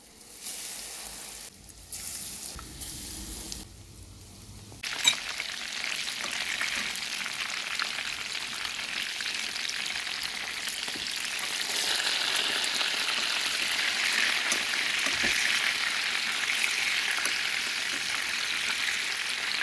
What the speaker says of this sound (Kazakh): Енді осыған біз баклажандарымызды батырып қуыратын боламыз.